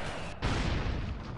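Rocket blasts in the video game BroForce, a dense rumbling explosion that bursts in after a short gap and rolls on loudly to the end.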